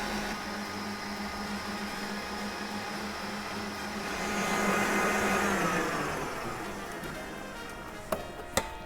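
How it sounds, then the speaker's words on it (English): Electric mixer whisking egg whites and sugar into meringue, a steady, loud motor whir that swells in the middle and then eases, ending with a couple of light clicks. "Make sure that you whisk well in between every little bit of sugar so that it can almost dissolve into the egg"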